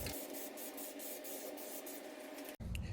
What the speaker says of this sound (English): we're going to spray on enough of the Plasti dip